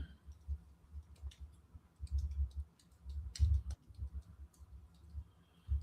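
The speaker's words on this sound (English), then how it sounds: "My typing skills need to get better." Fingers typing on a computer keyboard, irregular bursts of light key clicks close up, some quick runs and some pauses, with no talk.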